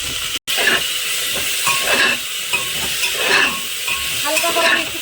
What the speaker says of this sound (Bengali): হালকা করে একটু কষিয়ে নেবো, বেশি কষাবো না।